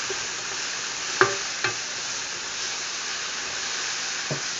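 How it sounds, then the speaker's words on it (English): Mushrooms and asparagus sauté in a pan with a constant soft sizzle and hiss, broken by a couple of clinks from stirring and a faint tap near the end. "The mushrooms are good and getting good and sauteed."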